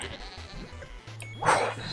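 Cartoonish goats bleat in the Super Adventure Box mode of Guild Wars 2, a few short nasal calls over low repeating game music, with one louder cry near the end.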